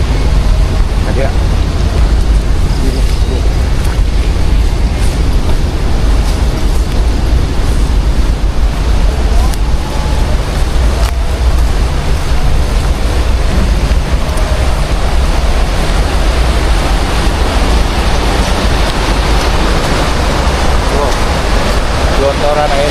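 Heavy, continuous rushing of water flowing out from an industrial estate, a loud, steady roar filling the whole stretch with wind-like noise and no break.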